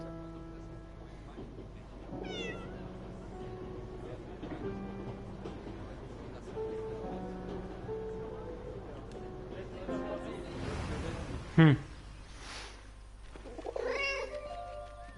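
A cat meows in the video game 11-11 Memories Retold: several drawn-out meows come early over quiet background music, then one louder, sharper cry rises near the end.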